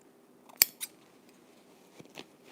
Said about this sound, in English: I'll come in here where the stitches are and snip a few